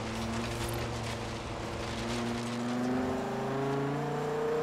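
Car engine droning steadily in Forza Horizon 3 during a night drive off-road, a close, sustained hum with rising pitch as it accelerates, alone without talk.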